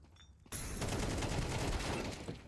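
Sustained automatic gunfire in Counter-Strike 2, a loud rapid burst that starts abruptly after a quiet moment and continues for about two seconds before tapering off.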